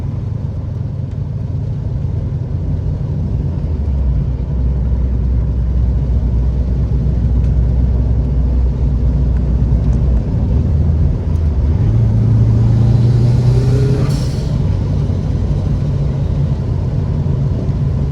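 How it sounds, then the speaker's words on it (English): A tuned Subaru WRX bugeye at wide open throttle, its engine a steady, loud rumble from inside the car that swells and climbs in pitch toward the end as it pulls through the gears. "We'll see if I can give it a wide open throttle."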